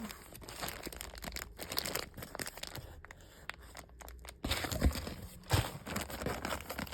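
A plastic bag holding mushroom growing substrate is handled with irregular crinkles and rustles. The sound is close and fairly quiet, with a few louder crumpling bursts near the end.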